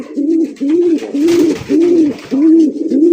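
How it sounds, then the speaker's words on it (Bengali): Pigeons, including black and tiger-colored birds, coo close by in a steady run of about six deep, rounded calls with short breaks between them, continuing almost without pause. "একটা দম দম গম গম ডাকে ভাই, মানে টানা ডাকে"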